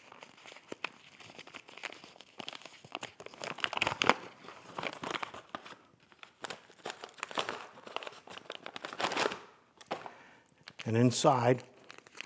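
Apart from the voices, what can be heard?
handling and opening a bag of milk paint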